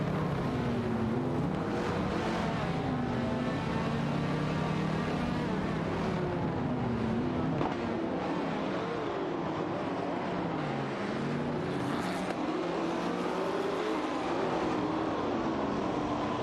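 Racing cars in an AI racing video game, a sustained, wavering engine drone that rises and falls in pitch across the whole stretch, moderately loud with no clear break.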